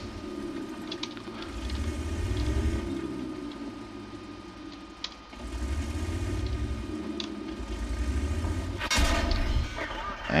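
Heavy thuds of shell impacts striking a tank in World of Tanks, set over a steady low engine rumble, with a couple of sharp hits standing out and muffled battle noise around them.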